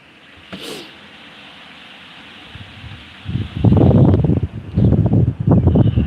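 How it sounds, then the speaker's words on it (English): Low wind rumble for a few seconds, then loud, gusty bursts of wind buffeting the microphone in repeated surges. "It is currently windy as hell and cold"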